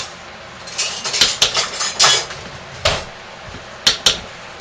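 Metal spoon clinking against a container while homemade jasmine flower and green tea soap is mixed, a run of light, bright taps and scrapes with a few sharper isolated clinks near the end, close up and without talk.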